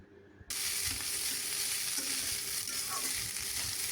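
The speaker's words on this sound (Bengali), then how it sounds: "আমি তার জন্য রাইস ফ্রাই করছি" Rice frying in a pan with a loud, steady sizzle that starts abruptly after a brief quiet moment and continues without pause, no speech.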